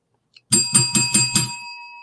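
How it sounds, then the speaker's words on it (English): A bright bell rings five times in quick, even succession, close and loud, then leaves a fading metallic hum. "Oh, that bell sound."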